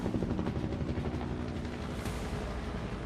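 Helicopters and fighter jets pass overhead in a naval flypast during a military exercise at Visakhapatnam, heard as a steady rotor thrum and broad roar at moderate distance, continuous throughout with no voices.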